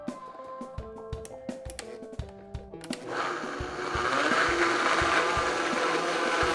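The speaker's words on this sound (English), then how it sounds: "pull out our blender and let's add our watermelon" A blender crushing watermelon whirs loudly and steadily after a few seconds of clattering and tapping, its motor grinding continuously through the rest of the clip.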